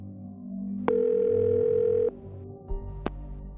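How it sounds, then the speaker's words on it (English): Telephone call being placed: a steady dial tone holds for about a second, then a brief tone sounds after the number is entered, with a couple of sharp clicks as the line connects, clear and close with no talking. "So, the Levys picked up the phone, then dialed"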